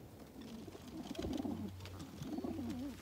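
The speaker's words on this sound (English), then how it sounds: "These are the baskets here. They're all full of birds." Racing pigeons packed into training baskets coo repeatedly in soft, rolling, overlapping calls, close and fairly faint against a low background hum.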